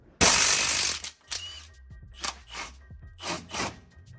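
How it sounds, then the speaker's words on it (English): A hand ratchet works on the inner lower control arm bolt of a Honda Type R: a loud scraping burst first, then a series of separate close mechanical clicks and gear-like rattles spaced out in uneven bursts. "we're gonna go ahead and loosen up this inner lower control arm bolt"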